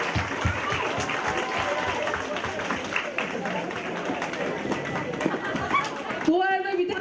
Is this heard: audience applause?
yes